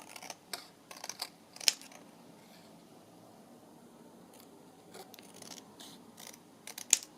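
Scissors cut paper decorations in a quiet room: a few sharp snips cluster at the start and end, with a stretch of near silence in between.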